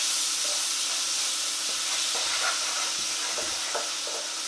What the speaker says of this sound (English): We're going to mix that around and cook those spices a little bit, along with our minced garlic